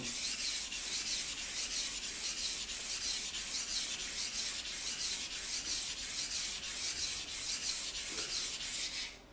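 A Global kitchen knife is stroked steadily across a wet whetstone, giving a continuous loud rasping scrape in an even back-and-forth rhythm that runs without a break and ends abruptly.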